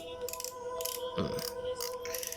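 A Shimano Aperto 3000 fishing reel's drag clicks in a few short ratcheting bursts, close up, with a faint steady hum beneath.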